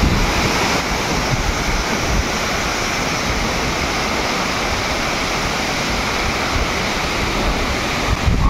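A constant roar of falling water at the Akasha Gange waterfall in monsoon, broad and unbroken, close and loud, with no voices over it.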